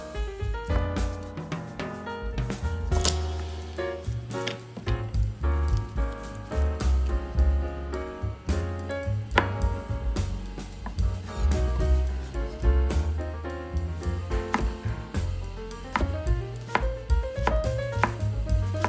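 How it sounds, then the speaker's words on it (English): A kitchen knife smashes and then chops garlic on a cutting board, with close, sharp, rapid blade strikes repeating steadily throughout. "Here I use my kitchen knife to smash 2 pieces of garlic and then chop them into small pieces"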